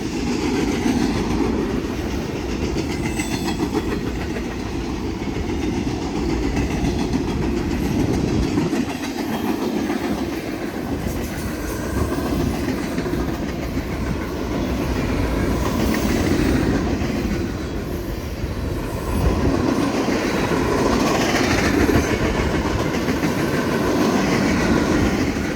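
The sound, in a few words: freight train passing on rails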